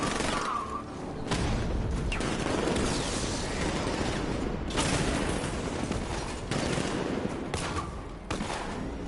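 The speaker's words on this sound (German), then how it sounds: "Granate!" Grenade blasts and gunfire in the video game Batman: Arkham Knight: several loud, close bursts break out over a dense, continuous roar of shooting and rumble, with no pauses.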